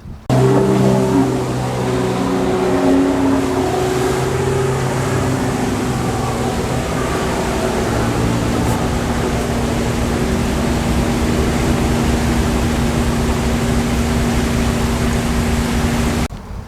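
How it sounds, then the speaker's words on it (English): Jet skis passing by on open water, a steady loud engine drone with tonal whine holding throughout, close and continuous with no voices. "that first clip was of some jet skis that went by."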